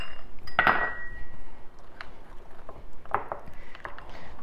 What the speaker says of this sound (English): we're going to add in our milk and flour and butter mixture, and we're going to stir that together